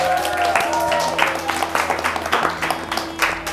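Applause from young participants at a World Water Day talk show, irregular clapping over a steady hum and background voices, loud and close.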